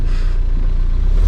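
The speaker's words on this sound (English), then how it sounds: "Why is my car running so rough right now?" A KA24DE-swapped 300ZX engine idles rough with a loud, steady, close low rumble that throbs unevenly.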